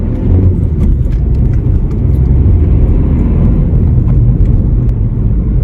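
A 7th-generation Ford Fiesta 1.5 diesel drives along, a steady loud rumble of engine and road noise from inside the cabin, with no talk.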